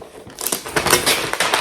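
Plastic wrapping on a new 2023 16-inch MacBook Pro being handled, giving close, quick crinkling and crackling bursts over a couple of seconds.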